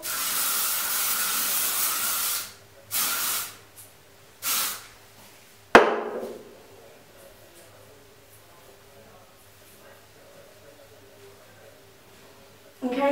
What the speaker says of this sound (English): bring my hair back, spray it all